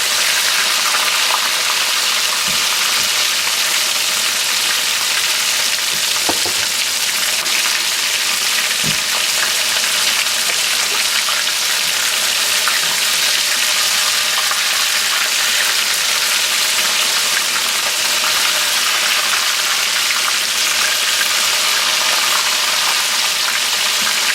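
Venison steak fries in a pan with a loud, steady sizzle that holds for the whole stretch, broken by a few faint clicks and no voices.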